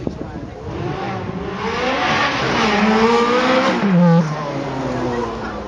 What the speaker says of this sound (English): The Ferrari F430 Scuderia.